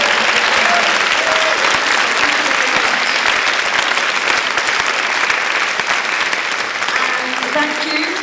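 Sustained, loud applause from an audience at a nightlife and queer utopias talk, steady dense clapping for the speakers throughout, with a few faint voices mixed in near the end.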